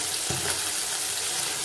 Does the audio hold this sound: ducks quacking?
no